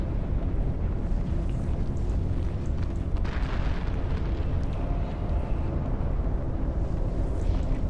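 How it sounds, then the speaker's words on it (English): Large shield explosion during a massive EVE Online space battle, a dense continuous rumbling roar of blasts with no pause, loud and heavy throughout. "Big shield explosion."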